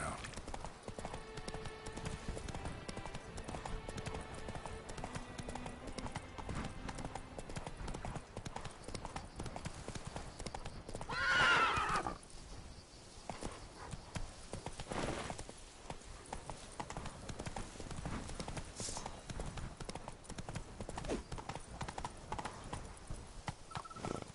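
Roach, a horse in The Witcher III: Wild Hunt – Blood and Wine, gallops with steady, rapid hoof clip-clop throughout, a brief whinny midway, all under game music and ambience.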